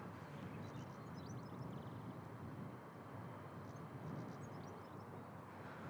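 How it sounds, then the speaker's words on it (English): A British Airways Embraer 190 flying from London City to Edinburgh rumbles with a broad, steady distant roar at an airport, with faint bird chirps above and no talking. "That what we're looking at now is a British Airways Embraer 190"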